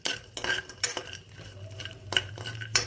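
Edible gum resin fried in ghee in a pan for dry fruit laddu, with a metal spoon scraping and clinking against the pan in irregular close strokes over a low, steady background hum.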